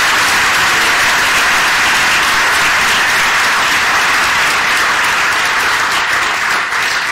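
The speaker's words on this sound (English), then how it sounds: "could you please give a big round of applause to our panel?" An audience applauds a panel at a public talk on pain, loud dense clapping that fills the room steadily throughout, with no voices over it.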